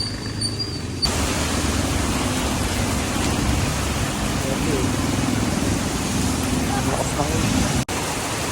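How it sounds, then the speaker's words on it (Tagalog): A steady roar of heavy rain pouring down in San Pablo City, broadband and constant, with a low rumble underneath, cutting off abruptly near the end. "Ang lakas talaga ng ulan."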